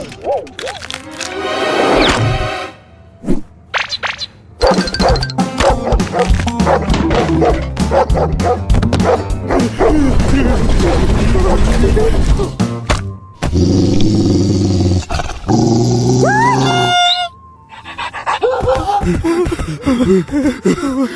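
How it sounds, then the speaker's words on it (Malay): A dog barks loudly and repeatedly in close, insistent bursts, mixing sharp yips, whimpers and rough growling tones, with short gaps of silence between volleys. "Anjing dah pergi."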